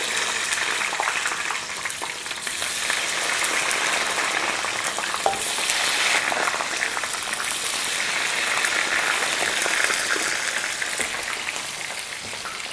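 Frozen fries deep frying in hot oil for orange chicken loaded fries, a loud, steady, dense bubbling sizzle that runs on without a break.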